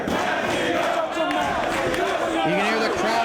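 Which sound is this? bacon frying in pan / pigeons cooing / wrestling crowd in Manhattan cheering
wrestling crowd in Manhattan cheering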